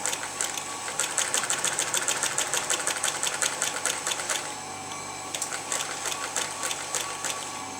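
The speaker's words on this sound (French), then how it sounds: "Cette partie en dessous, je vais coudre jusqu'à ce que je vois mon élastique ici derrière." A sewing machine stitches fabric above a band of elastic, running in a fast, steady mechanical clatter for about four seconds, pausing briefly, then starting again for a second run, close up with no talking.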